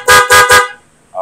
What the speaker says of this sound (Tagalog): Pagdating naman sa loud horn, ayan, ulitin natin.